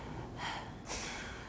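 A voice imitates a man's heavy breathing, two breathy bursts about half a second apart, close and fairly loud, with no words spoken.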